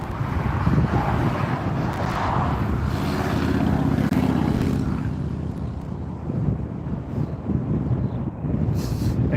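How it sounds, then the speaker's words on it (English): An Emirates airliner taxis at Newcastle Airport on a crosswind day, giving a steady broadband jet rumble and whine that holds throughout, with wind noise mixed in. "Oh, Emirates is taxiing out."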